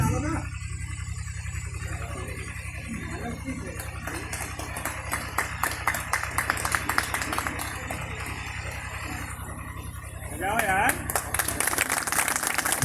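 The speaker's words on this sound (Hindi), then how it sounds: "जोरदार ताली बजाएं धीरज भैया के लिए" Audience clapping at a village bhajan competition, a dense patter of hands that swells louder near the end, with a steady drone and some voices underneath.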